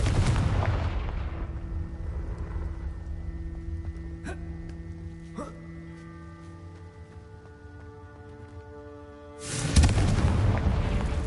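A Confringo fire spell goes off in Hogwarts Legacy, with a loud blast at the start, a steady ringing hum with two sharp cracks in the middle, and a second heavy burst near the end.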